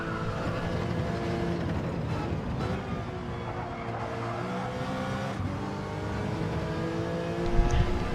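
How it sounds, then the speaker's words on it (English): A race car drives by at speed, its engine note rising and falling, with a faint whine from its straight-cut gearbox layered over the roar and no talking. "You'll hear that sound of those straight cut gears in that transmission."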